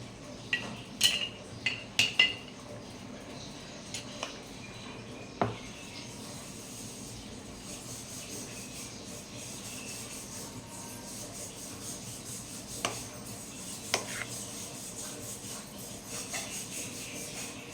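Banana muffin batter spooned into molds, with a soft, quiet scrape of a spoon and a few sharp clinks against bowl and tins, spaced irregularly.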